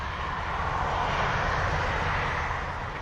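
A United airliner takes off from runway 25 at Montego Bay, Jamaica, its jet engines holding a loud, broad, steady roar throughout.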